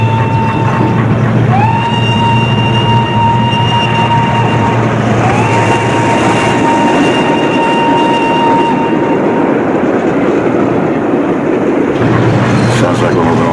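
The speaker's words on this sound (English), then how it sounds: "Sounds like we're moving along with the train." Steady loud rumble of a moving train, with a continuous roar and occasional rising whistle-like tones over the top, close by throughout.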